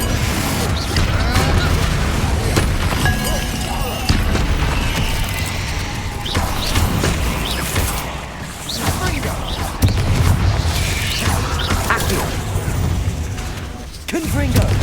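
Explosive Confringo and Bombarda spells in Hogwarts Legacy go off as repeated booms and crashes through constant dense combat noise, loud and close throughout.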